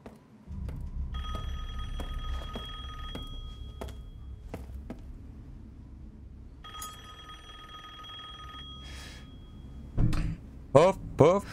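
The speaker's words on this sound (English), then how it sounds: "Look, the phone's ringing." A telephone in the game Resident Evil Village rings in two long trilling bursts separated by a pause, over a low ambient rumble with scattered thunks and a few brief voice sounds near the end.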